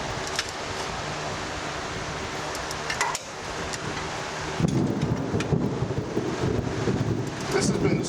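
Thunder rumbles through a summer thunderstorm with rain and wind, a steady low roar that swells louder partway through, heard outdoors during work on a 2006 GMC truck lift install, with brief voices.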